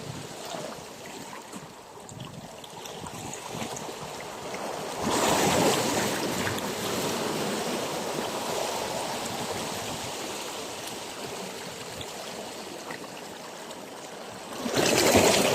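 Strong ocean waves wash steadily near a fishing spot in Bataan, a continuous broadband rush with louder surges breaking in around the middle and again at the end, no voices.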